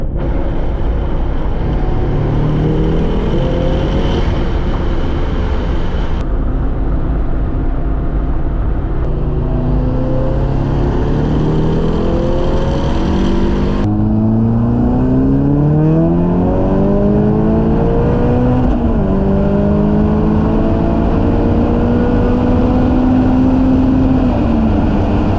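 A tuned Mazda Miata launched with an aggressive new clutch and accelerating hard toward its rev limiter near 200 km/h, loud continuous engine roar rising in pitch through several gear changes, with steady wind and road noise.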